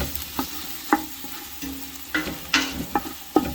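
Tomato paste cooks with onion and garlic in a pot for Italian gravy, a low simmering sizzle punctuated by repeated spoon scrapes and clinks against the pot at an uneven rhythm, with no speech.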